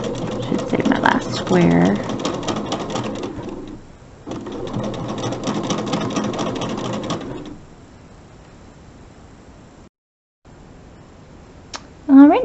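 A sewing machine stitches a quilt block in place for a square-in-a-square quilt, running in steady loud bursts with a short pause. Someone talks over it before it stops and the room goes quiet.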